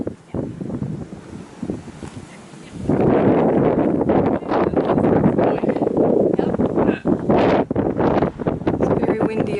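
Strong gusts roar across the microphone on top of Mount Arbel overlooking the Sea of Galilee, a loud buffeting rumble that surges harder after a quieter start, with a voice faintly underneath.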